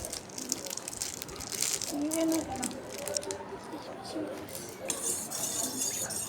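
A spoon stirs food colouring into warm sugar syrup in bowls, making soft scraping swirls and light clinks against the dishes, heard up close under a person talking.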